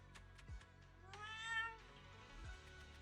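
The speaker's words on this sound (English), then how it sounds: "So that weird noise just now must have been this little cat's doing." An orange cat in the Zenless Zone Zero video game meows several times, soft and fairly close, with short chirpy calls and one longer drawn-out meow in a quiet room.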